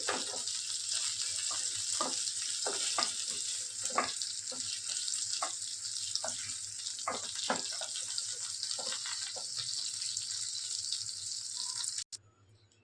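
Rohu fish frying in a pan: a steady, close hiss of sizzling oil dotted with small pops and crackles that carries on evenly for about twelve seconds, then cuts off abruptly, with no voices.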